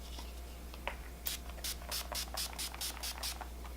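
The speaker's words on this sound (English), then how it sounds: "right now I'm just going to use the Urban Decay, what is this? The Chill Makeup Setting Spray." Urban Decay Chill Makeup Setting Spray is misted in a rapid series of about eight short hissing spritzes, close and clear over a quiet indoor background with a low electrical hum.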